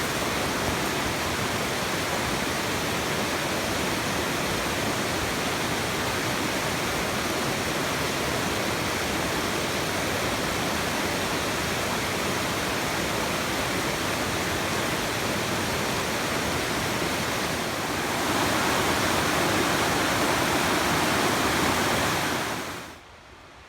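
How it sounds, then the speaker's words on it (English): A steady, loud rushing of a nearby flowing stream, continuous and unbroken for the whole stretch before cutting off abruptly at the end. "I'm just about to hit the stream now."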